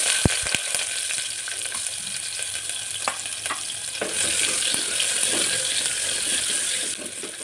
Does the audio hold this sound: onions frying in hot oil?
yes